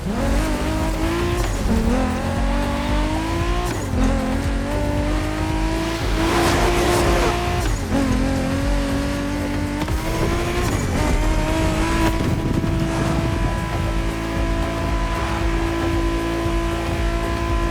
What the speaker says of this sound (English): Good thing you're driving the 1969 Camaro Z28.